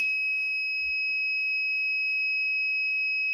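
A piercing Siemens home security alarm rings loud and steady, a continuous high electronic tone with no break.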